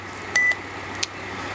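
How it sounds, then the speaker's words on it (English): A timer sounds one short electronic beep followed by a briefer blip a moment later, over a steady background hum at an amateur radio station awaiting an ISS pass; close and clear, with no talk. "There goes the timer."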